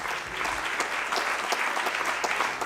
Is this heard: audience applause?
yes